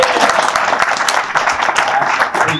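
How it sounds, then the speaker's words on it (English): Crowd applause at a political endorsement event for a New York gubernatorial candidate in Forest Hills, Queens: steady, loud clapping from a gathered audience filling the whole stretch, with occasional sharper individual claps. "You can applaud for Lee Zeldin."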